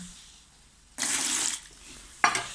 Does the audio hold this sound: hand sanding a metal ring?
no